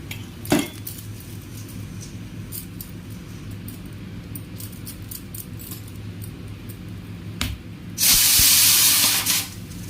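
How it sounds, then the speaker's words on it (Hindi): A pressure cooker whistles while rice cooks in a home kitchen, giving a loud, sustained hissing steam blast near the end after scattered clinks and clatter of utensils. "चावल में सीटी आ रही है।"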